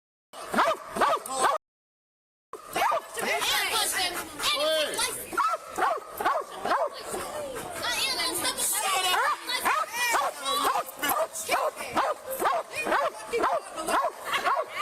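A police K-9 German Shepherd barks and yips in rapid bursts close by, with a brief silence near the start, while people talk over and between the barks.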